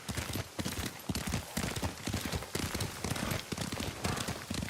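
Horse hooves clop in a steady, rapid gallop while riding in the video game Ghost of Tsushima, the close, busy hoofbeats running continuously with a rain-like wash beneath them.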